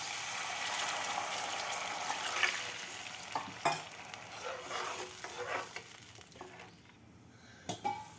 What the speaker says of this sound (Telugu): వాటర్ పోసుకుందాం అరకప్పు తీసుకున్నాం కదా రెండు అరకప్పులు వాటర్